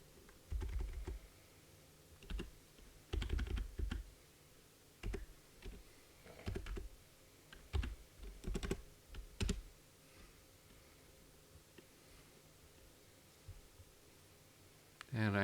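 Keys on a computer keyboard tapped in short bursts while C++ code is entered, close and fairly quiet clicks with pauses between runs and a louder clack at the very end.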